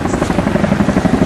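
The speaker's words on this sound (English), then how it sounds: "a beautiful sight as the Chinook helicopters with the flag presentation fly by the pits" Chinook helicopters flying by the pits during a flag presentation at a 1996 Seattle race, heard as loud, close rotor thumping with a rapid, steady beat and a heavy engine drone, without any talk.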